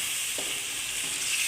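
Chicken pieces coated in whisked yogurt sizzle steadily in a hot pan for chicken malai boti, a continuous close frying hiss with a couple of faint stirring scrapes and no talking.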